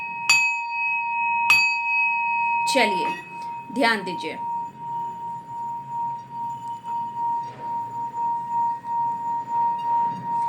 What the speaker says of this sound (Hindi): पहले चलिए बजाती हूँ घंटा एंड घंटी, मतलब ये बॉल से हीलिंग प्रोवाइड करूँगी।